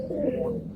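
A brief, close burst of soft throaty cooing from pigeons in a Howrah loft, one rolling call filling most of the moment.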